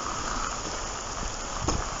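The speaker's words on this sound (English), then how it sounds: "Rain's getting heavier again now." Rain falls steadily as a broad, even hiss on a countryside walk in autumn near a river bridge at Little Braxted, Essex, with one brief louder splash or rustle near the end and no talking.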